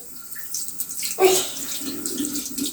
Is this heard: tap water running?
yes